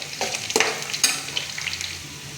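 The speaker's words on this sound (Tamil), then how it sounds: "பூண்டு வதங்கினதும்" Whole peeled chopped garlic sizzling and sautéing in a pan, with a few sharp scraping and clinking sounds of stirring over a soft frying hiss.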